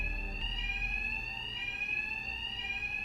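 A continuous high-pitched electronic alarm rings steadily in Batman: Arkham Knight, a sustained shrill tone holding throughout at moderate level, with no voices.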